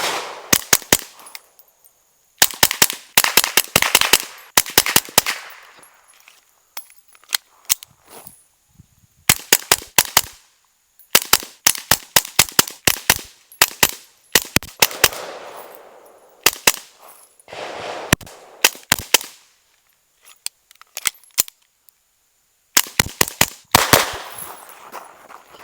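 Suppressed gunshots at an outdoor shooting range, fired in quick bursts of sharp cracks separated by short quiet pauses, fairly close and loud with brief echoing tails; no speech.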